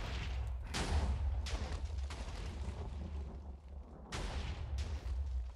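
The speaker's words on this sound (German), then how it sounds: "es ist gerade alles nur am Explodieren." Repeated booming video game explosions with sharp onsets and rumbling tails, several bursts over a few seconds, loud and continuous with no talking.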